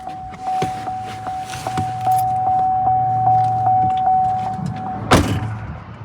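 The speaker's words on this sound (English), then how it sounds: "Exiting the vehicle." A car's door-open chime beeps in a steady rhythm as people get out of the vehicle, with low rumbling and shuffling, then a sharp door thud near the end.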